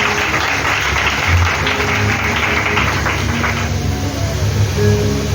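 A church congregation at a New Year fasting and prayer service claps steadily and loudly together, a dense continuous wash of applause with scattered voices underneath.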